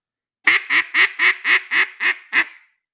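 A duck call is blown in eight short, evenly spaced quacking notes, loud and close, each clipped off cleanly with silence before and after.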